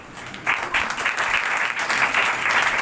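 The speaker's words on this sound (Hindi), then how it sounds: "भाई मैरक के लिए जरा तालियां बजाएं।" An audience at a religious gathering breaks into applause, clapping starting abruptly and continuing steadily, fairly close and full.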